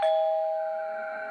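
A doorbell rings once as a sound effect in a narrated Hindi horror story, a clear sustained electronic tone ringing out and slowly decaying, heard alone without narration.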